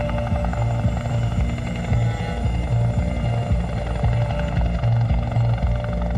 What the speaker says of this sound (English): The film showed a napalm-like substance being dropped from helicopters to burn away what remained